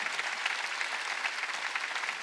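A church congregation clapping together, a dense continuous applause sustained steadily for the whole moment without pause.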